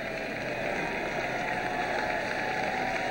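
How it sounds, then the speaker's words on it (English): Sports fans in a stadium give a faint, distant round of applause that holds as a steady, even wash of crowd noise for a few seconds. "Fans giving him a really nice round of applause."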